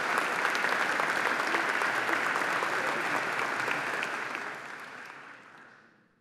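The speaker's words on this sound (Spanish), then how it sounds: "para quien también pido un fuerte aplauso" An audience at a tribute speech breaks into sustained, dense applause. It holds steady for several seconds, then fades out toward the end, with no voices over it.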